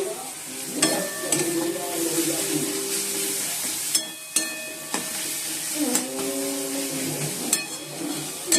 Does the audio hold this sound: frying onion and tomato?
yes